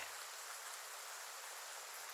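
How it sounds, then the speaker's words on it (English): Rain pours down in a video game as a steady, dense hiss of falling water, even and unbroken, with no talk. "Oh, it's raining."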